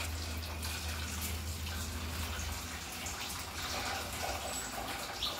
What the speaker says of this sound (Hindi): इसको मैं पानी निकाल रहा हूँ इसका।